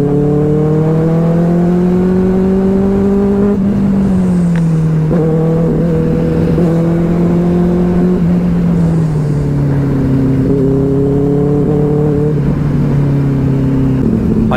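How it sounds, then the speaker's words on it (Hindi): A superbike fitted with a very loud exhaust, recently tuned with a relay changed, drones and revs up close, its deep steady engine note rising and dipping in pitch over several swells, with no talk. "बाइक की साउंड और अच्छी आने लगी है अभी।"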